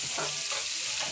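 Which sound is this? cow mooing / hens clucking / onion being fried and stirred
onion being fried and stirred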